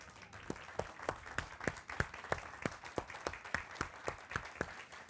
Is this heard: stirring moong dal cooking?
no